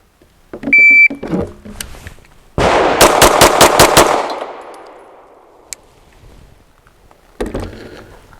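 A Bull Armory double stack 1911 pistol fires a fast string of about six loud, sharp shots outdoors on a range, each crack ringing out. A few clanks come before the string and a louder knock follows after.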